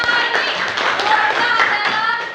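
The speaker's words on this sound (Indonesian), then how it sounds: "Tepuk tangan buat keluarga" A classroom audience claps for a family, a dense, close and continuous patter of hands mixed with voices throughout.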